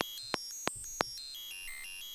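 A bright, rapidly looped pattern of a super sped-up guitar sweep pick, high ringing notes and a few sharp clicks, buzzy and synthetic, cycling continuously.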